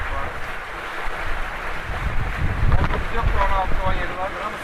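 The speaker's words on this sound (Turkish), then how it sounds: "Şu an kaç saat rüzgar var? Gene bir 18-19 var." Steady wind of about 18-19 knots roars across the microphone on a sailboat at sea, over rushing water and the hull, with faint voices in the background.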